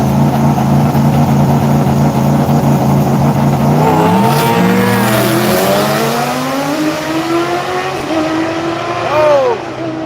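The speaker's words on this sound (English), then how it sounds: "He's spooling that turbo up." A turbocharged drag race car launches down a drag strip, its engine loud and close as the turbo spools up, then rising in pitch through hard acceleration, with voices faintly underneath.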